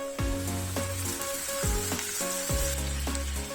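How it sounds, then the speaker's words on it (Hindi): Chopped tomatoes drop into a pan of sautéed chopped garlic. There is a loud, steady sizzle, with several sharp hissing bursts as the pieces land and a stirring spoon scraping in between. "थोड़ा इसको सौते करेंगे अराउंड हाफ मिनट। और अब इसमें जाएंगे हमारे टमाटोज।"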